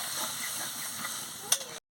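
Water poured into a hot pan while cooking a village-style snake gourd curry with potato and mustard paste: a steady, close steam hiss, a brief louder sizzle near the end, then sudden silence.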